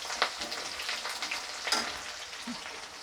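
Chopped onion sizzling as it hits hot oil in a pan, a steady close crackle broken by a few sharper spits and pops, moderately quiet with no voices.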